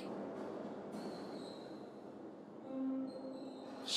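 Quiet rumble of the Sky Train in the Streets of Rage 4 video game, rolling rail noise with thin squealing wheel tones rising near the end.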